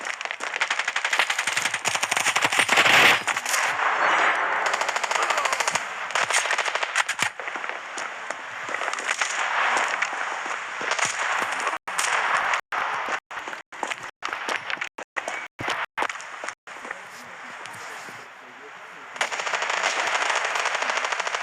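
Rapid gunfire in the mobile shooter Standoff 2 comes as loud, dense automatic bursts broken by brief silent gaps, with shots cracking in quick succession throughout.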